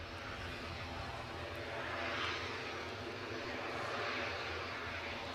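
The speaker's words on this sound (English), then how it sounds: "We'll cut to the Loganair Embraer once it's lined up." A Loganair Embraer airliner at windy Edinburgh airport gives a steady, distant engine roar that swells slightly midway through, mixed with wind noise and no talking.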